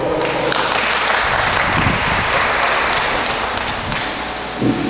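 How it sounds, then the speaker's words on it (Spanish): Church congregation applauding during a Spanish-language Sunday service, a steady, loud, dense wash of many hands clapping for about five seconds with no pauses. "Démosle un aplauso a Emanuel, por favor."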